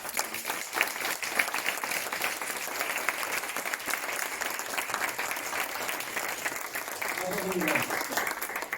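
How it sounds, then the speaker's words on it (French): A municipal council meeting in Onnaing breaks into sustained applause, dense even clapping from a roomful of people, with a voice briefly speaking over it near the end. "Et puis on peut encore l'applaudir."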